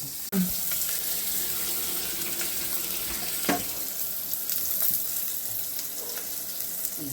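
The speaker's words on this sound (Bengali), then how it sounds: "পটলটা এরকম করে ভেজে নিতে হবে ভালো" Pointed gourd (potol) fries over high heat in a pan for a moong potol dish, a steady close sizzle and hiss with a sharp clatter at the start and a few scrapes later.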